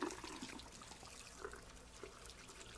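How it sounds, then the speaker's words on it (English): Cool tap water runs over a hair lace closure during a rinse, making a faint, continuous trickling and splashing with a few small sputters along the way. "we're going to now rinse our closure out with cool water."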